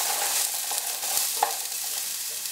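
Crushed garlic and ginger sizzle in hot oil in a frying pan while being stirred, a close, steady crackle punctuated by a few light utensil scrapes and taps.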